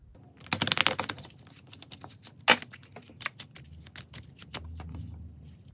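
A deck of 52 oracle cards being shuffled by hand, giving dense papery riffles and quick clicking bursts at close range with short pauses between.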